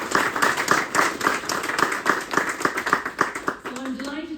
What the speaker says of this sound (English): So I'll just give you a round of applause.